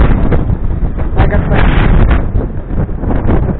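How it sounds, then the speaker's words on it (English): Strong wind buffets the microphone outdoors beside an e-bike, a loud, continuous rumbling roar with gusty surges throughout. "the wind is so strong, right?"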